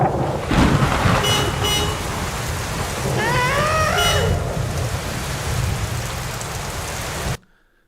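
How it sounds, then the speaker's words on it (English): Heavy rain pours steadily while thunder rumbles low underneath, with a brief high whine partway through, before everything cuts off abruptly. "And then we'll have some rain."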